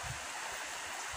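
Creek water flows in a steady, close wash with faint gurgles at a stream where fish are being caught, with no voices heard.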